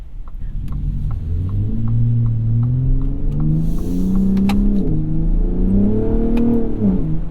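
A 2021 Ford F-150 Raptor engine pulls hard while driving, with a loud, rising rumble climbing through gears and dipping briefly between shifts, heard from inside the cabin without talk.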